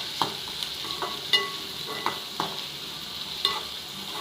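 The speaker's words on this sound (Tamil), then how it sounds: "ஒரு 2 நிமிஷத்துக்கு நல்லா ஃப்ரை ஆகட்டும்." Onions and asafoetida frying in hot oil in a pan, a steady close sizzle with intermittent scrapes and knocks of a spoon stirring, no voices.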